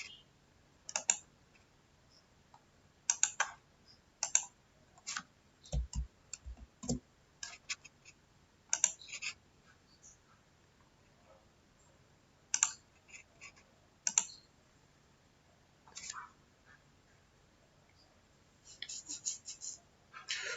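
Quiet computer mouse clicks sound in scattered single and double taps with long pauses, close by, while working in an Excel spreadsheet.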